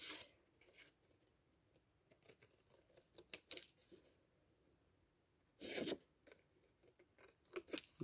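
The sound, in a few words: scissors cutting fabric squares for a pouch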